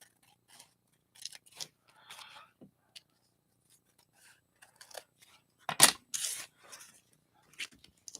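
Scissors trim paper in short, sharp, close snips that come in scattered bursts with quiet gaps and one louder cluster of cuts in the middle.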